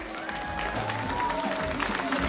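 Applause from a crowd at a historic car rally prize-giving ceremony in Estonia, steady clapping throughout with a presenter's voice talking over it.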